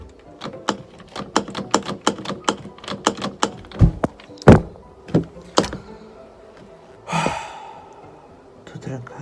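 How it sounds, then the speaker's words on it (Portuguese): Keys jingle and scrape in a house door lock on a cold London street, a run of sharp metallic clicks and rattles, then a louder clunk and a rushing breath-like noise near the end; no speech. "Ela deu umas chaves e eu supostamente tinha que abrir a porta para entrar em casa."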